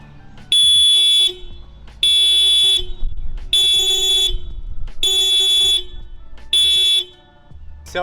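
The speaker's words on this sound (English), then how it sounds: "that high-pitched clown horn sound, which is embarrassing and puny" A high-pitched, thin horn of a 2021 Honda Civic Sport Hatchback honks five times in a row, each blast about a second long, loud and close with short gaps between.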